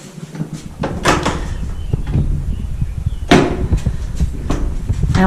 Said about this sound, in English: So I wheel my bike through to here, and then there's a double door